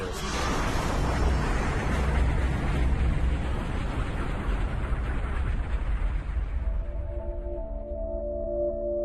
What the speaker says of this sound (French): Nous sommes directement menacés par l'explosion la plus titanesque qui se soit jamais produite dans l'univers.